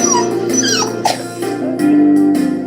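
Dogs at an animal shelter whimper and yip in high, wavering cries up close, followed by a brief steady whine, loud and with no talk over them.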